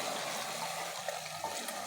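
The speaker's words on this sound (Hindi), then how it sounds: "और बस अब इसके अंदर मैं पानी डालने लगी हूँ।" Water pours steadily into a cooking pot holding potato keema in a desi handi, a continuous hissing splash that stays close and even throughout.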